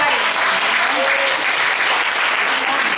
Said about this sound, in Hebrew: מחיאות כפיים.